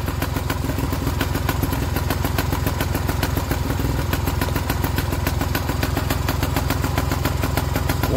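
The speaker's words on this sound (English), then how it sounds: "What a lovely little engine." A small Stuart Turner engine runs steadily at close range, its rapid, even clattering beat with a mechanical tick continuing unbroken and loud, with no voices over it.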